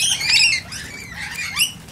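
A small scaly-breasted lorikeet at a bird sanctuary gives a run of shrill, high chirps and squeaky calls, close and fairly loud, with no voices.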